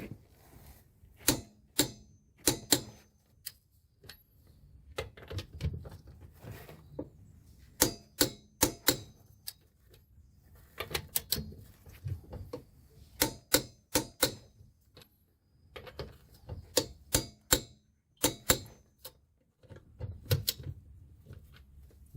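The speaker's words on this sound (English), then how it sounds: "the wheel nuts get torqued down to 140 Newton meters, which is 100 foot-pounds of torque" Ratcheting torque wrench clicks while wheel nuts are tightened on a Corvette during a rear brake job, sharp clusters of clicks repeating in bursts with short pauses, close and fairly loud, no talking.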